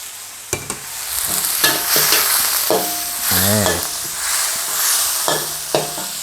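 Wagyu beef with basil stir-fried in a hot pan for kaprao, loud continuous sizzling broken by repeated scraping strokes of the spatula and a few sharp clanks, close and without talk.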